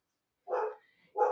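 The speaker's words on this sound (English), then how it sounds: "Sorry about my dog." A pet dog barks twice indoors, two short, fairly close barks separated by a brief pause, with no talking.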